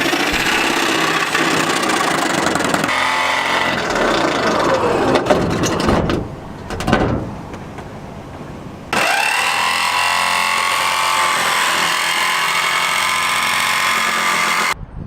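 A power drill whirs and grinds loudly and close during a MaxxAir roof fan install in a van, running in long continuous stretches with a short pause and a ratcheting burst between them.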